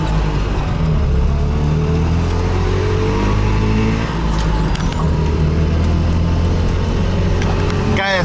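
A Trabant drives along with its small engine accelerating, a steady loud low drone and buzz filling the whole stretch, close and continuous with road noise underneath.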